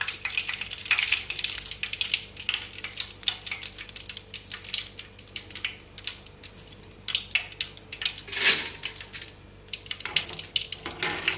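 Poha, flattened rice, dropped a little at a time into hot oil for sevdo, frying with a steady crackling sizzle and brief stirring clatter, close and moderately loud with no talk.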